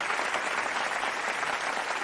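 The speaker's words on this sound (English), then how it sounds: "Can they stop clapping?" Crowd clapping in the anime Jujutsu Kaisen, a dense, steady wash of many hands applauding at once that holds level throughout and cuts off abruptly at the end, with no talk.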